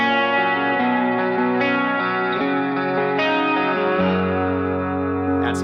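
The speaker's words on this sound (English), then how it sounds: "this is a chorus that I have running before the amp" An electric guitar sustains chord tones through a chorus effect on a Line 6 HX Stomp, feeding the amp, with a wide, shimmering swirl and a few chord changes.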